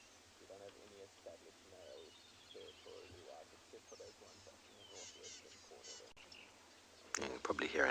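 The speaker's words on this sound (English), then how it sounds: "You can probably hear a number of birds flittering around us and calling." Southern black tits and rattling cisticolas call and twitter nearby at sunrise in short, quick phrases against a quiet background, ending with a sudden louder rustle.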